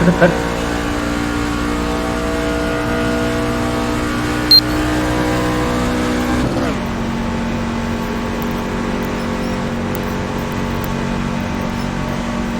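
Race cars powering across the start-finish line on an oval after the pace car pulls off; a sustained loud engine drone with a sharp pitch drop midway as the pack passes, and a commentator's voice mixed in.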